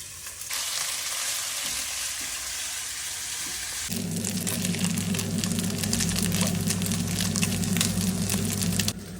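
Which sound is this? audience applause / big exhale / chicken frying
chicken frying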